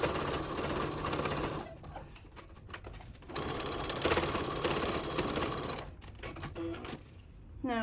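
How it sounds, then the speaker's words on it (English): A sewing machine runs in steady bursts while stitching down the pleats of a fabric face mask still on a pleater, giving a close, continuous rapid whirring with short pauses between runs. "Now I'm going to go back to the machine and sew down the pleats very close to each side"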